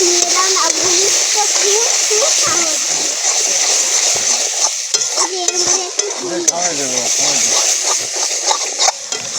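Green peas go into a pan of spice masala that keeps sizzling loudly, with a steady, close frying hiss and stirring that continue under someone talking.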